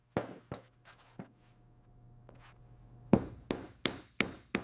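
A handful of sharp hammer-struck punching taps through banana stem handbag material for stitching holes, spaced irregularly, then a quicker run of five crisp knocks near the end, close and alone over a faint low hum.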